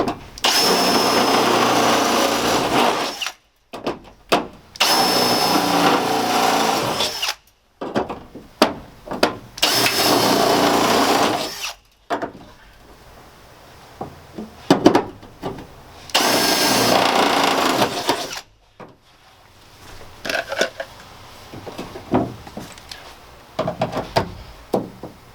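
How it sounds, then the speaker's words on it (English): A power drill bores holes in a metal A-frame wall and ceiling interior frame, loud sustained whining bursts of several seconds each, separated by short pauses and lighter handling clatter. "you're pretty safe to just drill all the rest of the holes out in one pass"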